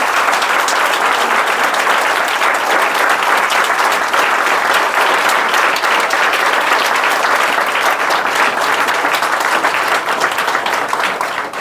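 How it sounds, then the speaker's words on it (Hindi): Church congregation applauding, loud sustained clapping from a large crowd that stays dense and even for over ten seconds without talk. "एक जोरदार ताली प्रभु यीशु के लिए।"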